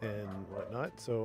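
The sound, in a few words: dogs barking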